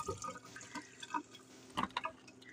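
Galunggong fish being rinsed in water, with scattered drips, small splashes and trickling through a short, fairly quiet stretch, no voices.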